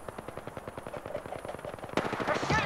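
Rapid automatic gunfire from a video game, a fast steady burst of shots that grows louder and denser near the end, faintly mixed under game ambience.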